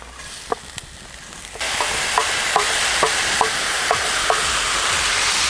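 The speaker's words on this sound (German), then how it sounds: "Jetzt gebe ich meinen eingeweichten Risotto dazu." Soaked risotto rice is tipped into a very hot pan of onions on a fire plate and bursts into a loud, steady sizzle. Sharp clinks and scrapes of stirring repeat at regular intervals.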